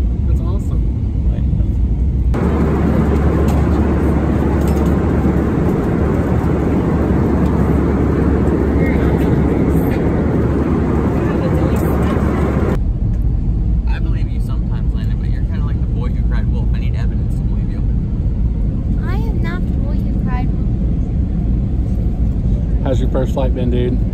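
Loud steady roar inside a passenger airplane cabin during takeoff, an unbroken engine rumble, with people talking over it.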